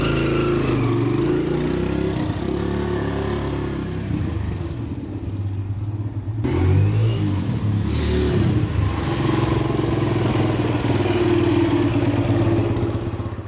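A dirt bike engine runs loud and close during a test drive after an oil leak repair, its rough buzzing drone dipping briefly before being revved again and holding at a high, steady roar.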